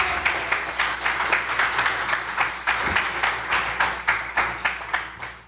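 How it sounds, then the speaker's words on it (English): An audience in a church or community gathering gives a round of applause, a dense, steady wash of many hands clapping that continues throughout before starting to thin toward the end. "now let's have a round of applause for Reverend Shell."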